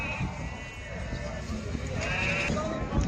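Sheep bleating at a crowded livestock market, a drawn-out bleat rising over a dense bed of crowd noise and murmuring voices.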